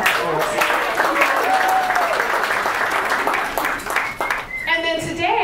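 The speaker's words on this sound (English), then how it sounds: "How about a round of applause for all our partners?" An audience at a City Club event applauds the sponsors and partners, a full steady wash of clapping with scattered cheers and voices that thins out near the end.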